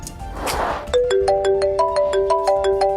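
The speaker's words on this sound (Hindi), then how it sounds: "मेरे पति का फोन आ रहा है" A phone ringtone starts abruptly and plays a repeating, bright electronic melody, loud and close, after a brief rustle.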